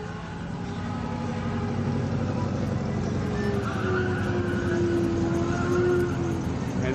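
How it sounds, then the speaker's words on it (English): Several cars doing burnouts at a circle track during a Friday night street car event, heard as a steady, sustained engine roar with a rising whine, loud and continuous throughout. "I hear some cars doing burnouts"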